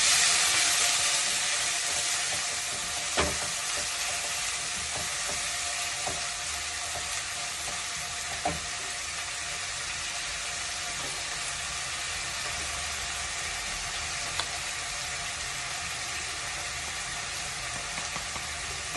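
Chopped onions frying in hot oil with asafoetida, a continuous loud, close sizzle with occasional soft pops and stirring clicks.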